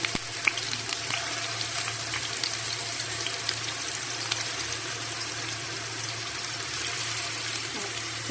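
Algerian kefta meatballs frying in a pan, with a steady, even sizzle and crackle of hot oil that continues throughout and has no talk over it.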